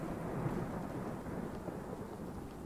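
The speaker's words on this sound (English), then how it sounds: "it's raining a little bit" Low, rolling rumble of thunder with a steady wash of rain in the Choo-Choo Charles video game, a continuous muffled roar at moderate volume with no voices.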